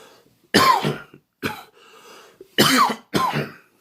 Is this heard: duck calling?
no